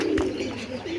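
Pigeons coo in a loft where fancy and local breeds are kept, a low cooing sound that is continuous and fairly close. No one speaks.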